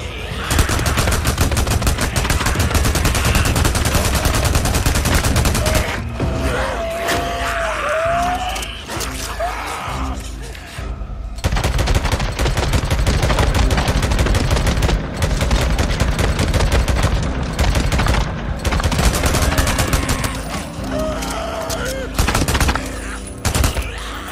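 Repeated gunfire from the video game Days Gone: dense bursts and volleys of shots, loud and close, running almost continuously with a short lull midway, some groaning and mechanical noise mixed in.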